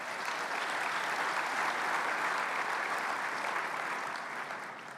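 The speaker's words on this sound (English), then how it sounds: "I would like us to give her a round of applause in this room here" A conference room audience at a Smart Africa leaders closing session gives a sustained round of applause, even and dense throughout, tapering slightly at the end with no speech.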